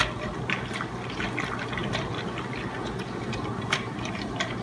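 About one and a half cups of boiling water is poured into a gelatin mixture for a homemade bird seed feeder, a continuous close splashing trickle with small drips, no talking.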